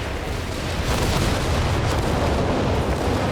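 Incendiary bombs from the Company of Heroes 3 strategy game burst in a dense, roaring fiery rumble with crackling booms, loud and continuous throughout without talk.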